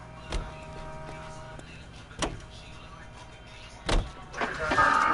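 Car driven in LA Noire, a low engine hum running underneath three sharp thuds spaced about two seconds apart, followed by a brief rising mechanical whir near the end, with talk mixed in.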